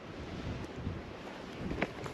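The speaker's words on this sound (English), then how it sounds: "Maybe a little windy though." Desert wind gusting across a rugged open vantage point, a steady low rushing roar with buffeting against the microphone, swelling slightly toward the end, no voices.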